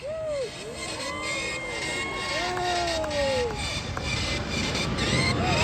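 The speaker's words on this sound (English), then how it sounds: "Get set to witness the very first wing formation takeoff from the left side of the runway." Military jets take off in wing formation at an air show, their engines a loud, sustained roar with sweeping pitch changes that swell toward the end, while an announcer talks over them.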